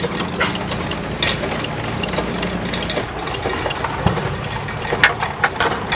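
A big wrench ratchets a fouled spark plug out of a hot antique engine at an outdoor engine and tractor show, with repeated clicking and metallic clinks over a running engine's background chug.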